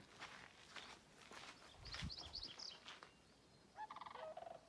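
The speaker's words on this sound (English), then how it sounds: "No, it's four geese." Four geese calling outdoors: faint, distant honking and gobbling calls in short bursts, with footsteps and rustling close by.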